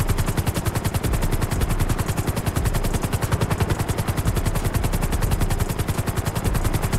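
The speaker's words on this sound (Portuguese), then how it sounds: "que doideira esse helicóptero" Continuous rapid rotor chop of a helicopter in GTA RP, loud and close, a dense pulsing beat that never lets up.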